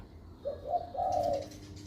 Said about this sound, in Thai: อันนี้ เป็นนกเสียงเล็ก